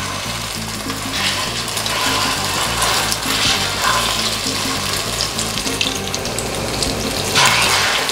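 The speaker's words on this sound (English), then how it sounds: "Then drop that fish in away from you." A flounder fillet sizzles and crackles steadily in hot canola oil in a pan, a loud, dense frying hiss that carries on without pause over a faint low hum.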